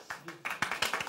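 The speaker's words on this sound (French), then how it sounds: "On peut l'applaudir." Scattered clapping from a theatre audience welcoming a performer on stage, a handful of distinct claps in a loose, quickening rhythm at moderate distance, somewhat faint.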